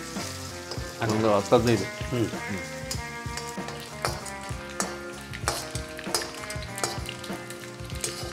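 Crushed garlic and curry leaves sizzle and crackle in hot oil for a tempering, a continuous close frying hiss with bursts of popping, while a person speaks briefly over it.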